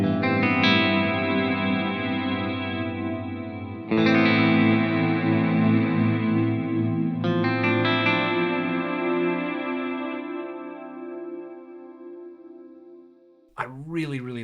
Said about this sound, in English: I really like that as a kind of special effect reverb on there with Ultra Tap.